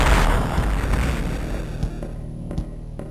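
A power bomb detonates in the video game Metroid Fusion, a loud, rumbling boom that fills the opening second and then decays into a long low roar with a few faint pops near the end.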